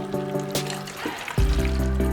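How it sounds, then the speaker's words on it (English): Water poured into a glass for a detox skin drink, a short bubbling trickle whose pitch rises as the glass fills, then a louder splashing gush near the end. "Then you put in our water"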